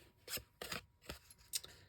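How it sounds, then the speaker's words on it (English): Stampin' Up! snip-type scissors cutting thick cardstock: four crisp snips spaced about half a second apart, close and fairly quiet, with no talking. "I use Stampin' Up! Snips."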